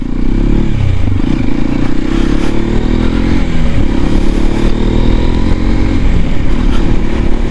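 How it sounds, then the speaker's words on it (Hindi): Hero Xpulse 210 motorcycle exhaust while riding, a loud, close, continuous engine drone that rises and falls through gear changes, mixed with wind rush and road clatter. "ऑल राइट, एग्जॉस्ट साउंड बड़ा प्यारा है यार इसका।"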